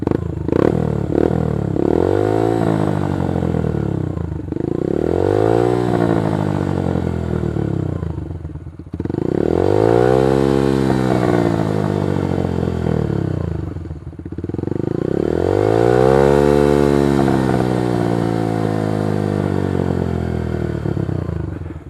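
Yamaha YBR 125 motorcycle with a Leo Vince decat exhaust, loud and close, revved four times in long rising-and-falling sweeps with clattering exhaust between, no voice over it.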